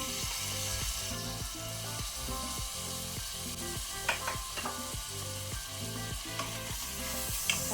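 Two medium tomatoes frying with ginger-garlic paste in a pan for pav bhaji, a steady loud sizzle broken by rhythmic stirring scrapes and a few sharp utensil clicks, with no voices.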